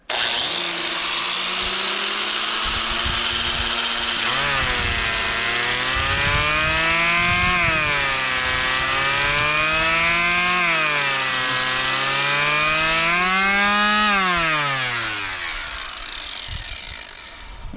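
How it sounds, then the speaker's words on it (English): An angle grinder powered through a battery inverter runs continuously and close, its whine sagging and rising repeatedly as the load on the motor shifts, then fading slightly at the end. "let's fire up the grinder"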